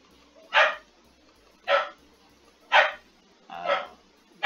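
A dog barks repeatedly at cats somewhere in the house, four evenly spaced sharp barks about a second apart, moderately loud and clear over a quiet background with no talking.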